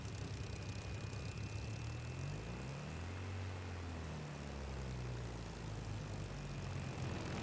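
A Spitfire's piston engine drones steadily as the plane rolls down the runway for takeoff, a low, even roar that stays constant and somewhat muffled throughout.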